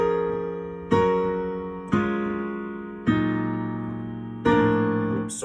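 Solo piano plays a section of a song: four sustained chords struck one after another, each ringing and slowly fading, close and clear with no voices.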